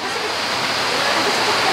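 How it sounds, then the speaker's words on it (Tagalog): Rain falls outdoors near a parked vehicle on soft ground, a steady, dense hiss that stays close and even throughout, with no clear talk above it. "Umuulan."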